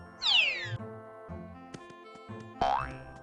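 Cartoonish cat meows from the ToonTown video game, two bright descending yowls at the start and end with soft game sounds and a boing-like tone between them, no talking.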